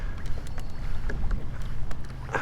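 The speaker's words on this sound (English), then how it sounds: "This wind has definitely given us a lot of trouble today." Strong gusty wind buffets the microphone on open water during kayak fishing, a steady rumbling roar with shifting gusts and faint water slaps, loud and continuous throughout.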